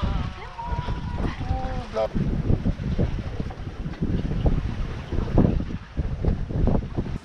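A sailboat under sail in a light 7-knot breeze approaching Corfu, with steady wind rush across the microphone and water swishing along the hull, plus a brief whistle-like tone near the start.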